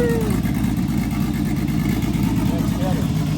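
A Nissan 350Z, recently repaired after a crash at a raceway, sits with its engine running in a steady, even idle hum, close and continuous.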